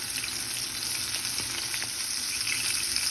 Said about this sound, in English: So now we've turned the fish fillet and we're searing the other side